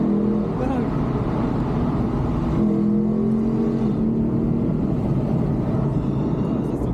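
A Lexus IS-F V8 accelerates hard with burning tires, the engine droning loud and steady with rising tonal notes while people talk over it.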